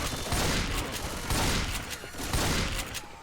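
Shotgun blasts from Left 4 Dead 2, a few loud booming shots spaced irregularly over dense in-game noise, close and punchy with no talking.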